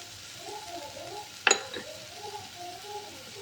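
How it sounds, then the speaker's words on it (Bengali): Spices are stirred into a frying pan over a quiet, steady sizzle, with one sharp close clink of the spoon against the pan partway through. "একটু নেড়ে নেব।"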